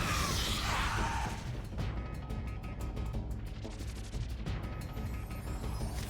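Rapid fire shots in Spyro 3: Year of the Dragon during a boss fight, a quick series of sharp cracks and clattering impacts after an opening whoosh, fairly close and busy.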